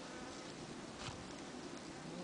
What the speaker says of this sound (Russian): Я вот вижу здесь вот пчелы работают через пленочку.